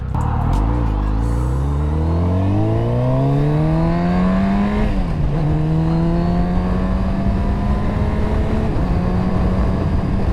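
Kawasaki Z900RS Cafe motorcycle revving hard through the gears: rising engine pitch drops sharply at two quick upshifts, the second made with a Dynojet quickshifter, loud and continuous with wind rush and no talk.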